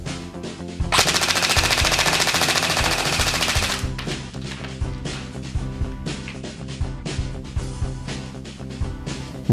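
An APS ASR 400 electric airsoft rifle running on a 9.6 V battery fires a long sustained burst, then rattles off shorter bursts of rapid mechanical clatter, close and loud.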